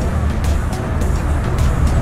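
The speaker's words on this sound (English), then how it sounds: "I believe that is an F8 Tributo." A white Ferrari F8 Tributo drives past, a steady loud roar of engine and road noise lasting throughout, with faint intermittent ticking on top.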